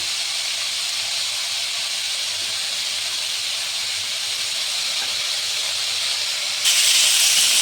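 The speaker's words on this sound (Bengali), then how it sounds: "এখন আলু কুয়াশটা একটু ভাজা ভাজা হতে থাকে।" Cubed potatoes frying in a pan for a shol fish curry, a loud continuous sizzling hiss close by that jumps up sharply near the end, no voices.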